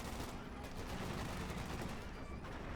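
Continuous machine gun fire in the World War II strategy game Company of Heroes 2, a dense rattling fusillade with overlapping bursts and distant battle noise, steady and moderately loud.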